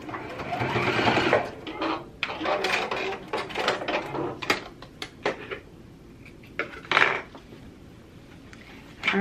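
Sewing machine stitching while a bra is finished, running in rapid bursts with short pauses, mechanical whirring and clatter loud and close, with faint speech in places.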